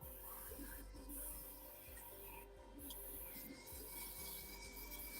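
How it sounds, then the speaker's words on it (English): Steady scratchy rubbing of sanding a part of an F4U model kit, a continuous rasp with no voices, fairly quiet and close. "So I need to do some sanding of that pew-pew"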